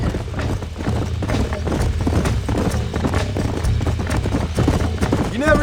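Horses' hooves clip-clop in the western video game Red Dead Redemption, a steady, loud trotting rhythm on the ground with a whinny near the end, under a rumble of game sound and talk.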